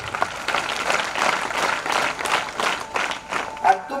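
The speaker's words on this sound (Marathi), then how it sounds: "पोलीस भरतीच्या पोरासाठी टाळ्या होत्या" Many hands clap together in a lively audience during a humorous motivational talk to students, a continuous rippling patter rising and dipping in waves, fairly close and full.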